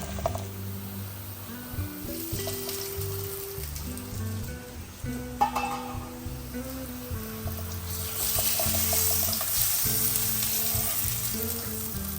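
Steady oil sizzling as beetroot fries in a pan continues throughout, joined by background music and occasional faint clatter.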